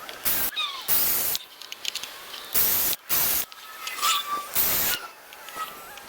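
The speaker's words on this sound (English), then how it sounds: "this thing just slices through this wood, the Kobalt 40 volt max" A Kobalt 40V brushless 14-inch chainsaw cuts through wood in loud, close hissing bursts of roughly half a second to a second each, separated by brief quieter gaps.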